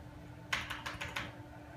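About five light, faint keystrokes tap out on an Amiga computer keyboard in quick succession over steady background hum, with no voices.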